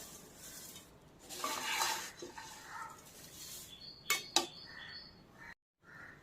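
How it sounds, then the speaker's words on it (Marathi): Poha chivda is tossed in a pan with the gas turned off, giving soft rustling and scraping with a few sharp clinks of a utensil against the pan, close and fairly quiet. "आपण आता गॅस बंद करूया आणि थोडा टॉस करून घेऊया चिवडा"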